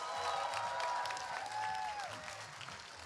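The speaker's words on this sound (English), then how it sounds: "a big, big round of applause for all of our contestants!" An audience at a costume contest during a convention gives a sustained round of applause, a dense wash of clapping with some cheering that continues steadily and fades slightly at the end.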